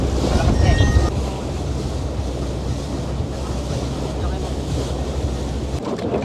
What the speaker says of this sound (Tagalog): Medyo malakas nga lang yung hangin sa ngayon